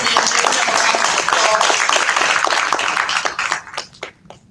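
Audience applauding a speaker at an IT summit, dense steady clapping from a crowd that carries for several seconds before thinning out into a few scattered claps at the end.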